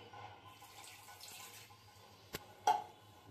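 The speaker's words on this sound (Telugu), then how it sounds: "వాటర్ వేసుకుందామండి." Water pours softly into a pressure cooker holding dal, tomato, onion and coriander, a faint, quiet trickle that ends with two sharp clicks close by.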